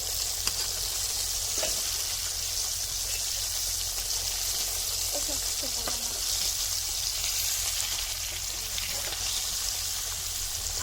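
Pabda fish frying in oil in a pan, a steady bright sizzle that stays even throughout, with a few faint clinks and soft utensil movements.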